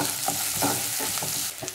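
Chopped onion stirred in a frying pan for upma, a brief dense sizzle broken by quick rhythmic spatula scrapes, loud and near.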